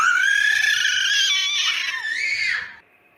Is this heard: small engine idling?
no